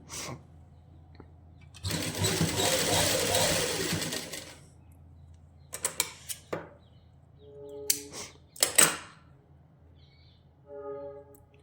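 A sewing machine stitches lace onto the sleeve of a suit in one loud, sustained run of about two seconds. Several short bursts of stitching follow, with quiet handling sounds in the gaps between them.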